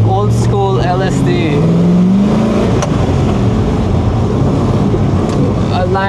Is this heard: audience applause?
no